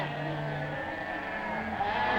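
Sheep bleat from a herd, a steady wavering cry standing out against a continuous noisy background that runs through the whole stretch.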